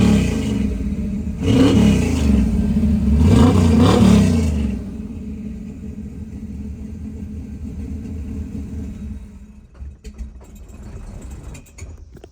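A 1966 Chevrolet Chevelle street car's engine gets two loud, close revs that rise and fall back, then settles into a lumpy, rumbling idle with a few sharp blips near the end.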